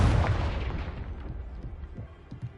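A Confringo spell explosion from the video game Hogwarts Legacy: a loud, deep boom that bursts at once and then rumbles away, with a few smaller thuds near the end.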